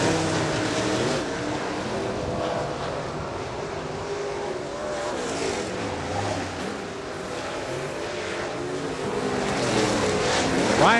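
Late model race cars roar around Salina Speedway during a heat race, a dense, continuous engine drone with rising and falling passes throughout, loud and close, with a swelling approach near the end.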